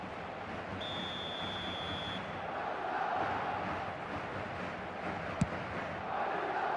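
Stadium crowd noise in the eFootball 2025 video game on PS5, a continuous rumbling roar that swells slightly, with a brief electronic tone early on and a sharp click near the end.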